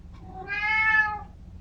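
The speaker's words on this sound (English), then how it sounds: "My cat." A cat gives a single clear, close meow of about a second, rising and falling in a quiet room with nothing else around it.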